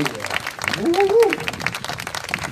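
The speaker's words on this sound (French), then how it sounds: "On applaudit." Audience applause in an occupied theatre in Lorient during a public meeting, a moderate burst of clapping over a murmuring crowd, with a voice rising briefly through the middle.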